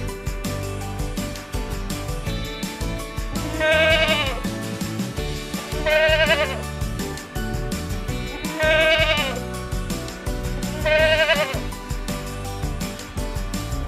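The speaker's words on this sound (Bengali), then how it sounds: "ছয়ে ছাগল ছানা লাফিয়ে চলে।" A goat bleating four times in evenly spaced calls over steady children's song music, each bleat clear and wavering.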